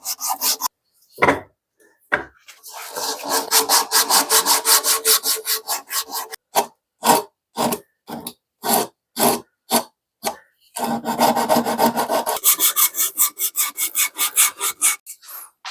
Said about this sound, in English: So some 80 grit. It's like a sanding belt.